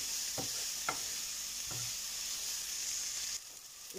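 Onions cooking in a pan, a steady high sizzle with a few soft stirring scrapes near the start, close and continuous, then quieter at the end.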